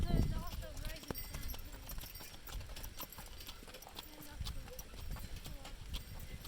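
Horse hooves clip-clop steadily on a trail during a group trail drive, close by and continuous, with people talking over the hoofbeats.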